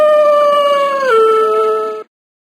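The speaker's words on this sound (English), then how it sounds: "Wolf." A wolf gives one long, loud, clear howl, holding a steady tone before sliding down in pitch halfway through and then stopping abruptly after about two seconds.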